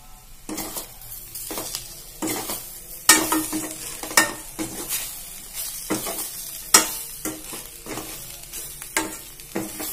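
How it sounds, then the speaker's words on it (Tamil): A spoon stirs brinjal podi curry with grated coconut in a pan, giving repeated sharp scraping strokes against the metal in an uneven rhythm over a soft, steady sizzle, close up and without talk. "நான் கிளறிட்டு பார்த்தீங்கன்னா நல்லா கிளறி விட்டுட்டேன்."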